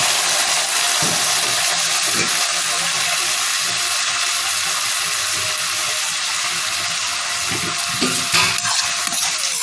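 Tomatoes frying in a pan with fried onions for vegetable upma give a loud, continuous hissing sizzle, with a few soft stirring knocks scattered throughout.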